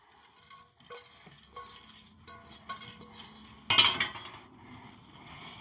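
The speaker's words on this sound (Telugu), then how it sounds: "ఈ కాకరకాయ ఇందులోకి వేసుకొని మంచిగా కలుపుదాం" Fried bitter gourd being mixed into pickle, with soft scraping and stirring, light clinks of a utensil against a vessel, and one sharper burst of clattering midway.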